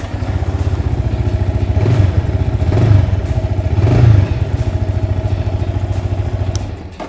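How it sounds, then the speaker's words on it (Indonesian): A motorcycle with a stock-sounding muffler runs close by, its exhaust giving a steady, mild idle pulse broken by three short throttle blips, with no talking. "Knalpotnya biarpun tampangnya gede, keren gitu, tapi suaranya ternyata ya lempeng-lempeng aja lah, sama kayak motor-motor standar ya."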